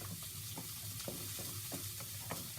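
A spoon stirs a bowl of rainbow noodles, giving soft, steady scraping and swishing strokes in a repeating rhythm, close and alone with no talking.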